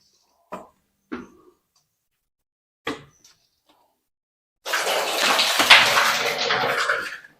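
A hose sprays water at a swiftlet nest building: a few short isolated knocks first, then a sustained hissing spray of water that runs for about three seconds before cutting off.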